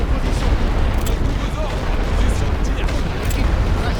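Rapid machine-gun and rifle fire in a World War I Western Front video game, a dense stream of overlapping shots and booms that continues without pause, with talk over it.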